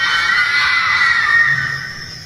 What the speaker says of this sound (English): those sounds escalated into screams raw, agonizing wails that tore through the darkness